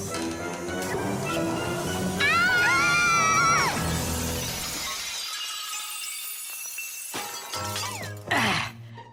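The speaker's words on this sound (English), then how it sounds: "And who's going to clean up all this broken glass?" Cartoon laboratory glassware shattering in a loud crash, followed by tinkling, chiming fragments and a second smaller smash near the end.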